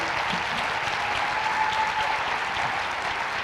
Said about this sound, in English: A round of applause for Tracy Raymond, the Canyons District Teacher of the Year.